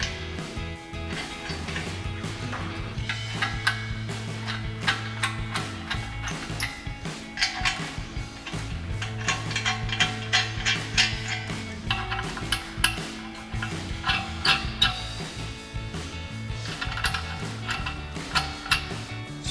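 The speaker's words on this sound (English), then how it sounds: "come back with our 14mm socket and tighten all these" A ratchet clicks rapidly in bursts with a 14mm socket, tightening nuts on a full-width winch mount front bumper on a 2014-2021 Toyota Tundra, with close metallic ticking and clinks throughout.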